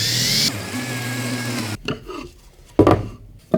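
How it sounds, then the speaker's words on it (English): A small countersink is drilled into wood, first a loud whirring drill burst with a rising whine, then a few short scraping and clattering handling sounds up close. "Adding a small countersink."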